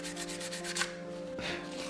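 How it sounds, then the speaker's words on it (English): Rhythmic rasping strokes of sandpaper rubbing over wood by hand, close and fairly quiet, back and forth with a low hum underneath. "we're just going to sand away any pencil lines that are left over"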